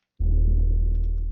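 A whistle pitched far down without effects turns into a deep, loud bass rumble with a fast fluttering pulse. It starts abruptly and drones alone for over a second.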